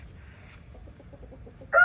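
Quiet low rumble, then a single loud, abrupt cluck from a chicken near the end.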